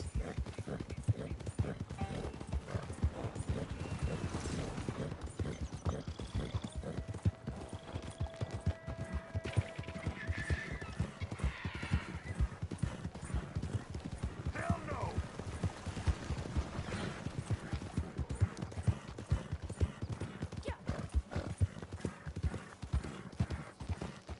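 A horse gallops in Red Dead Redemption 2 Online, its hooves clip-clopping in a fast, steady rhythm throughout, with occasional snorts and a brief whinny and some talk underneath.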